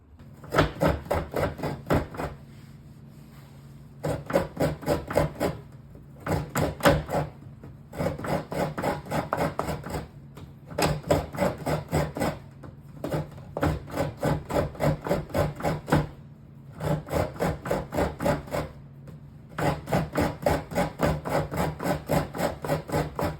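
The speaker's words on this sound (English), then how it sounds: "of using the Croch or the sit-down grater" Steady rhythmic rasping of coconut halves on an old-school Croch sit-down grater, close and loud, repeated scraping strokes in bursts of a few seconds separated by short pauses.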